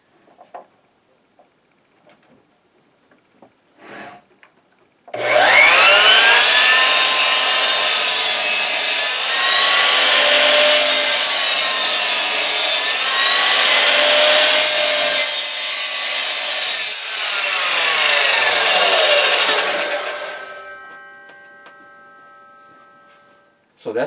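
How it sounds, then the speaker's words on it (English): An Admiral 12-inch sliding miter saw from Harbor Freight makes a test cut through wood: after a few faint clicks, the motor spins up to a loud, sustained whining cut lasting about fifteen seconds, then winds down to silence. "So that's the Admiral 12-inch sliding miter saw from Harbor Freight"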